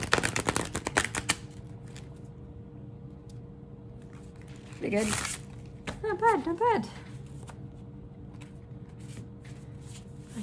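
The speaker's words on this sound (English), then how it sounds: "But we'll see if we can riffle shuffle this." Coated tarot cards from the HooDoo Tarot deck are riffle shuffled in two short, crisp fluttering bursts, close and fairly quiet, with a person talking before and after.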